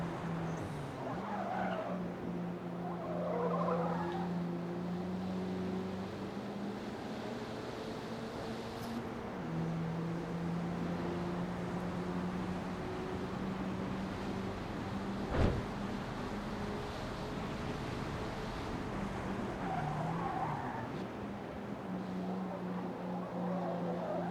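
A race car in the Forza Motorsport video game, with a continuous droning engine whose pitch steps up and down through gear changes as it rounds bends, and tire squeal and skidding over it, fairly quiet with one brief thump midway.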